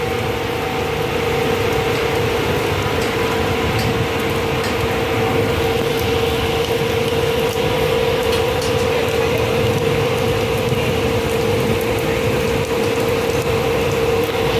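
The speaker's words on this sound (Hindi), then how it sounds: "बहुत ज़बरदस्त तेज़ बारिश शुरू हो गई है।" Heavy rain pours down in Karachi outside an office, a steady, dense, loud roar that does not let up.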